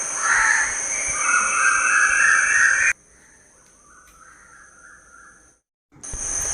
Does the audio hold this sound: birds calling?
yes